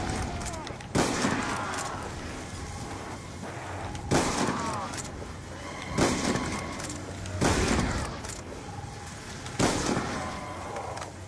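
Gunshots in a zombies video game ring out as separate loud bangs spaced a couple of seconds apart over steady game background noise.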